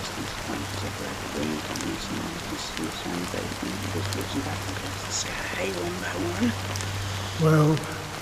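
Rain falling in a Honkai Star Rail cutscene, a steady hiss of drops running beneath voices that talk across most of the clip.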